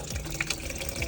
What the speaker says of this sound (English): you can see how it's draining out